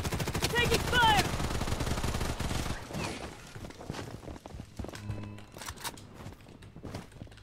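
Video game gunfire in Bloodstrike: rapid automatic bursts crackle loudly at first, then sparser shots and footsteps continue, with game sounds layered throughout.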